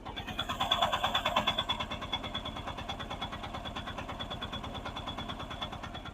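A Mahindra Jeeto Plus BS6 diesel engine idles with a steady, rapid low chugging pulse, close and even, slightly louder for the first second or two before settling.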